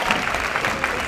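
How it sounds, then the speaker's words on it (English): At the 2022 International Junior Miss UK pageant, an audience applauds the judges, a brief, steady wash of many hands clapping together at close range. "So one last final round of applause for all of our judges who have come in from the USA."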